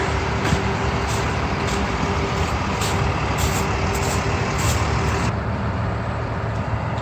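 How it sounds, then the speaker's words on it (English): A fire department refuge bus idling at a street fire scene, its diesel engine rumbling steadily with repeated sharp air brake hisses and releases over continuous traffic noise. "it looks like they have the traditional fire bus out here, the refuge bus"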